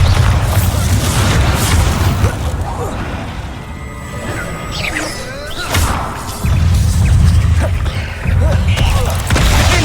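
Bombarda explosion spells cast in Hogwarts Legacy, with heavy booming blasts and crashing impacts among game effects, and voices of the characters are heard around them.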